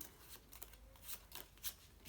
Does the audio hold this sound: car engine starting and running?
no